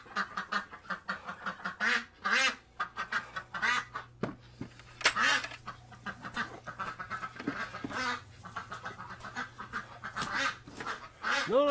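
An injured duck quacks repeatedly indoors, close by, in short raspy bursts spaced irregularly over a quiet background.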